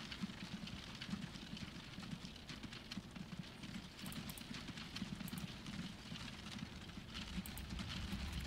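Horse-drawn road wagons in the Transport Fever video game, their hooves giving a steady, faint, continuous clip-clop patter with no talking over it.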